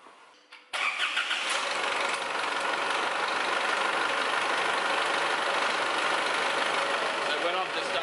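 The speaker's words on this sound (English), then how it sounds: "So now I can start the engine and I'll recheck that oil level." An Isuzu 4WD diesel engine cranks and fires after an oil change, then settles into a loud steady idle close by for several seconds.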